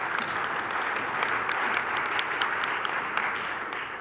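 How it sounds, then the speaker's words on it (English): A live podcast audience gives a quick round of applause, a full, steady wash of clapping from many hands that holds for several seconds and begins to thin at the end. "Quick round of applause."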